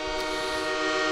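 A train horn sound effect on a sports radio show blares as one sustained, loud, chord-like blast, steady for the whole short moment with no talk over it.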